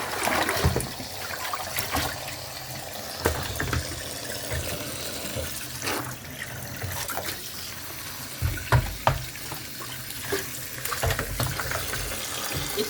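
Green leafy vegetables being washed in fresh water: steady running and splashing water with trickles and occasional clatters, close by, with no talking.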